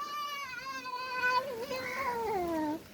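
A person's voice imitates a cat's meow, several drawn-out, wavering mewing calls in quick succession, close and clear with no other talk.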